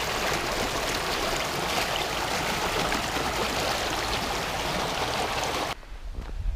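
Clear mountain stream on the way up Helvellyn rushes in a steady, loud broadband wash that cuts off abruptly near the end, with no voices.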